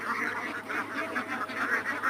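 Ducks quacking on a duck farm, a steady overlapping chorus of many birds calling close by with no pauses.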